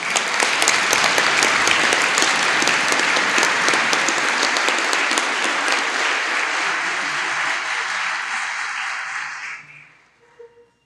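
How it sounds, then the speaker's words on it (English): Banquet audience at the 2013 FCA Cleveland County Hall of Fame Banquet gives a long, full round of applause, loud and sustained for about nine seconds before tapering off into quiet. "Let's give all of these people a big round of applause."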